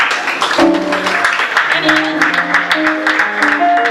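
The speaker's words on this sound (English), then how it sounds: "Oh, clap for her." An audience at a youth seminar claps steadily in a brisk patter of hand claps, with voices talking over the applause.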